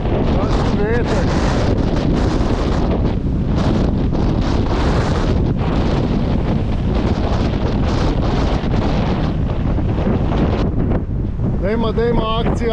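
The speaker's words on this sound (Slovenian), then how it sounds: "Noro, kakšni valovi," Strong wind buffets the microphone while waves crash and surge around a sailboat at sea in rising weather, a loud, continuous roar with people talking briefly near the end.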